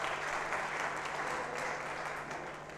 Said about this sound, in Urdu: بھرپور تالیاں بجا دیں اس ڈاکومنٹری اور